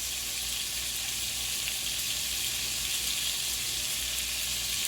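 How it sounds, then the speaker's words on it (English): Hamburger meat sears in a pan with a steady, dense hiss of sizzling that stays even and unbroken throughout, close up, with no talk. "But you've gotta get a good sear on the meat."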